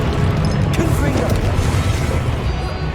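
A Confringo blasting curse goes off in Hogwarts Legacy, a deep booming explosion that rumbles on loudly for the full three seconds with crackling debris on top.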